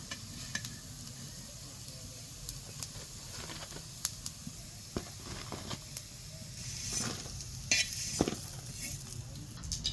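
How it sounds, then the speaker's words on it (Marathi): Spiced cucumber vadis shallow frying in oil produce a steady low sizzle throughout, broken by scattered soft pops and crackles, with a few louder spatters near the end. "चांगलं खरपूस भाजून घ्यायचं अजून थोडंसं तेल सोडायचं"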